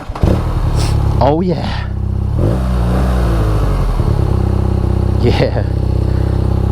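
A BMW R nineT Pure motorcycle engine runs steadily close by, with a throaty low rumble and a couple of quick revs rising and falling, while a person speaks briefly over it.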